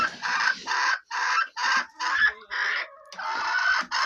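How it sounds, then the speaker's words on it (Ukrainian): Chickens cluck in a steady series of short, nasal calls, close and fairly loud, with brief pauses between them and no talking. "Красиві кури."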